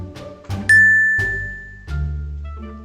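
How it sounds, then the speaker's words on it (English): Video game bell rung a few times in a haunted manor adventure: bright metallic dings, one ringing out clearly and decaying over a second or more, amid soft jingly tinkles and low thumps, loud and close. "Let's go play with the bell"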